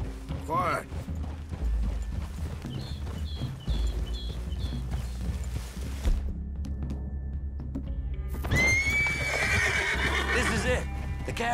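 Horses in the Red Dead Redemption II video game neigh and whinny repeatedly while hooves clip-clop and shuffle nearby, with a loud closing whinny under ambient game sound and voices talking.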